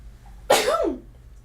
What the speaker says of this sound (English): I just sneeze.